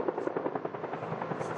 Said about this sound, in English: Overhead, several water-bombing choppers were attempting to douse the flames.